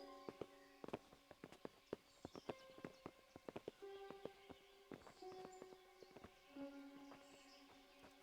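Horses in the medieval game Kingdom Come: Deliverance, with a steady run of hoof clip-clops and footsteps mixed with jingling tack and tonal game effects, quiet and continuous with no voices.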